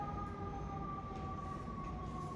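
A New York City ambulance siren holds a steady tone from a distance, rising and falling only slightly, over a dense rumble of street traffic, with no voices.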